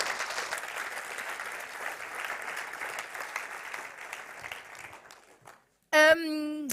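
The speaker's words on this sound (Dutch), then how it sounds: "Geef ze een applaus." Audience at a cultural policy presentation applauding, moderately loud clapping that gradually fades out, followed by a brief silence and then a sudden tonal sound.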